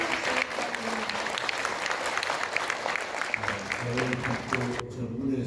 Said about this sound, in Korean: 마지막 축사로 자리를 빛내주신 나경원 의원님께 다시 한번 큰 박수 부탁드립니다